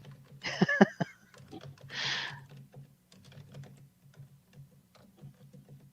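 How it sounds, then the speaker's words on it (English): Keys clatter on a computer keyboard in quick, uneven bursts, with a denser flurry near the start and then scattered lighter taps. A low steady hum runs underneath. "what are you typing now?"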